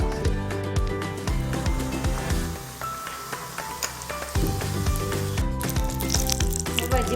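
Tomato egg bhaji deep-frying in hot oil, a bright, busy close sizzle with crackling pops that runs steadily throughout, and a brief softer patch in the middle.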